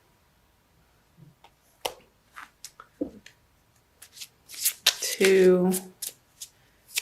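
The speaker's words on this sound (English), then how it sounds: "I'm going to pull a crystal card for you from Judy Hall's deck using the Crystal Wisdom Healing Oracle." Crystal Wisdom Healing Oracle cards from Judy Hall's deck are shuffled, giving close crisp flicks and taps that build into a quick riffling burst near the end, while a single spoken word briefly interrupts.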